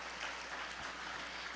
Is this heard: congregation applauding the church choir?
yes